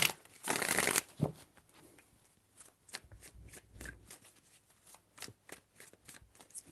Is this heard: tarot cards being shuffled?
yes